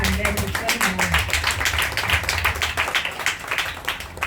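A congregation clapping in praise of Jesus at a church service, rapid steady rhythmic claps filling the room, with a voice speaking over them.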